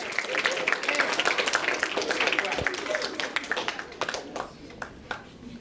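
Applause from a food drive audience, dense clapping that fades toward the end while voices chatter underneath.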